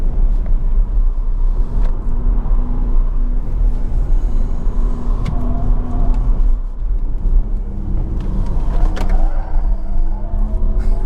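A base 2025 Porsche Macan Electric drives over a run of whoops, giving a steady, loud low road rumble with a muffled cabin whir and occasional thumps throughout, no voices.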